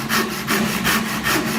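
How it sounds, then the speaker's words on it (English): Japanese pull saw cutting a wooden miter by hand in a jig, steady rhythmic rasping strokes of the thin blade through the board, close and loud with no talk. "it's a Japanese saw"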